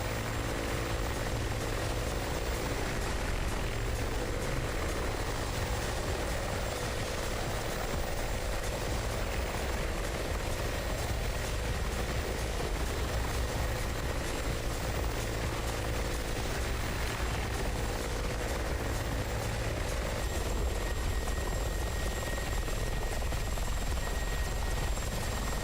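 A helicopter in the DCS World combat flight simulator runs steadily for the whole stretch, its rotor and engine making a dense, even drone that stays loud and close, with no talking over it.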